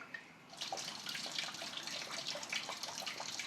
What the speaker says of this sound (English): we've got the water coming out now, not out of the tap where I would have liked, but it is still draining